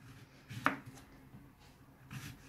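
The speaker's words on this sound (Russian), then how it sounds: "Далее я нарезаю тонким кружочком кабачок." A knife slices a zucchini into thin rounds on a board, giving two or three soft, brief cutting taps spaced apart in a quiet kitchen, with no talk.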